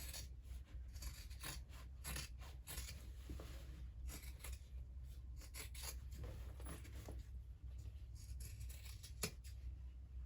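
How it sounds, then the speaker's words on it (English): Scissors snipping through the fabric seam allowance of a sewn hobo bag, trimming it down to about a quarter inch. The cuts come as a run of short rasping snips at close range, with no talking over them. "I'm going to trim down the seam allowance to about 1/4 of an inch"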